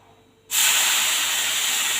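Boiling water poured onto roasted semolina (rava) in a pan bursts into a loud, sustained hiss of steam after a quiet moment, holding strong and steady to the end.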